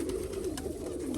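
Nikolaev pigeons cooing, a low throaty coo rolling steadily and close over soft rustling and faint clicks.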